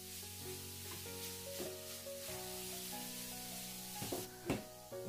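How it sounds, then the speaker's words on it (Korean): Wounded butterbur leaves hiss and sizzle quietly in a hot pan while being stirred, with a soft steady crackle and a few louder scraping stirs near the end. "팬이 이제 달구어졌는데, 상처를 낸 머위 잎을 이렇게 넣고"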